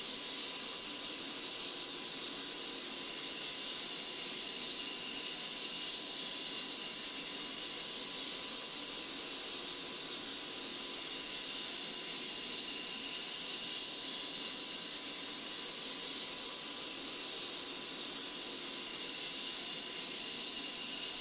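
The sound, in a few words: jet engine starting and spooling up in a flight simulator video game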